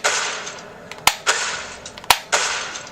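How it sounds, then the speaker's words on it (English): Sharp, loud video game gunshots triggered on an Nvidia Shield handheld, a few crisp separate cracks with short gaps and one louder double snap, heard alone with no talking. "And I'm just firing the trigger there for effect."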